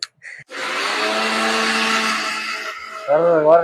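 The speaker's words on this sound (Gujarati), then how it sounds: "મિક્સર ચાલુ છે ભાઈ" An electric mixer grinder whirs loudly and steadily for a couple of seconds, then cuts off as a voice speaks briefly.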